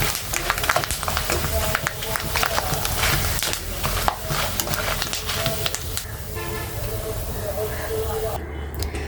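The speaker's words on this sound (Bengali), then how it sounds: "তো মাসাল্লাহ হয়ে গেল আমার পাপড় ভাজা" Potato papad crackling and hissing in hot oil, a steady broadband sizzle running throughout beneath a voice speaking.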